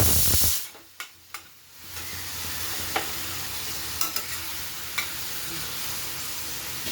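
Green chillies tossed into a pan of potatoes and tomatoes for a spicy Bengali tengra fish curry, giving a loud initial sizzle that settles into a steady frying hiss with a few sharp clinks of a spoon stirring.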